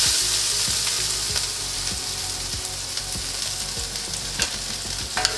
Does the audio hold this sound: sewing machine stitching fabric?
no